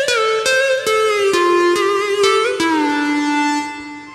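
A Korg PA1000 arranger keyboard plays a sampled melodic voice alone, with bright sustained notes, sliding pitch bends and steady, evenly spaced note attacks before a final note fades out.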